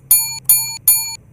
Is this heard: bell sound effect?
yes